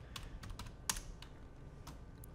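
Short run of computer keyboard typing in the Far Cry 5 map editor: several crisp key taps, one slightly louder, spaced unevenly over faint background hum.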